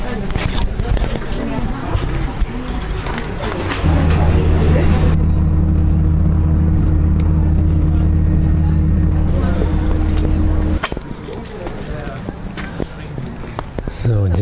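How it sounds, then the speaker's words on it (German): A 136-year-old rack railway train climbs uphill toward Drachenfels castle ruins, a loud steady low mechanical hum and rumble from inside the carriage, with people talking over it and varied clatter before and after. "das ist hier die Bahn. Die ist schon 136 Jahre alt. Und da fährt sie hoch."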